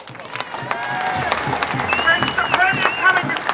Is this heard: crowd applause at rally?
yes